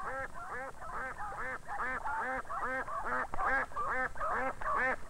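Farm ducks quack in a steady run of repeated nasal calls, close and clear, one after another with short gaps and no talk over them.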